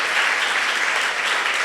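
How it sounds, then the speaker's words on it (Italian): Brief, steady audience applause at a public talk by an astronaut in Vittorio Veneto, dense clapping sustained for under two seconds without speech. "Facciamo anche un applauso per dargli un po' di riposo"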